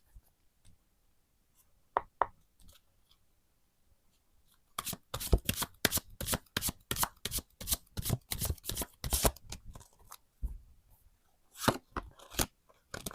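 Tarot cards are shuffled close up, first a few isolated taps, then a long run of rapid riffling clicks, then scattered handling sounds.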